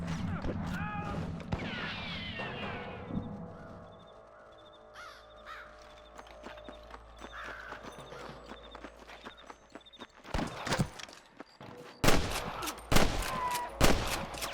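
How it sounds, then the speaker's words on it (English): Gunfire in the Western video game Red Dead Redemption, sharp bursts of shots arriving near the end after quieter ambience with crow caws and footsteps. "I can hear more gunshots."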